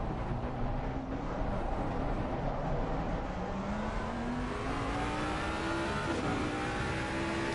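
A Ferrari race car in a PS4 racing game at Monza accelerating hard out of a corner, its engine note rising steadily through the gears, loud and continuous with other cars droning nearby.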